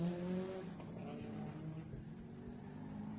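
A Subaru rally car races along a special stage of the 2023 Adelaide Hills Rally, its engine note loud and near, then shifting and fading as it passes.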